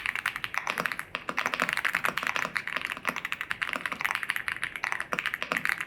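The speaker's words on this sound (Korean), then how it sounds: "다음은 아우라 F87 독거미 키보드입니다." Rapid clacky keystrokes on an Aula F87 87-key tenkeyless mechanical keyboard, continuous fast typing with an uneven rhythm, close and moderately quiet.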